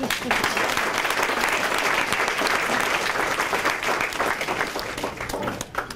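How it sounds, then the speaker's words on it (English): A hospital clinic celebration audience claps in a long, steady round of applause, full and even throughout before tapering slightly near the end. "I want you to give her a good round of applause"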